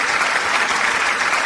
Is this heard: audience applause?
yes